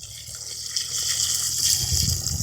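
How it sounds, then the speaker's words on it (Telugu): Water is poured into a pot of country chicken set to boil at an outdoor camp cooking spot, a steady gushing flow that swells slightly toward the end. "కొద్దిగా నీళ్ళు పోసుకుందాం."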